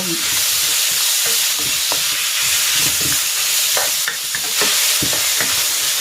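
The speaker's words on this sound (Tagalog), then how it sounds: "Ilalagay ko na itong chicken." Chicken hits a pan of sautéed shrimp bagoong and toasted garlic for Bicol pancit bato, with a loud, close frying sizzle and repeated scraping strokes of stirring.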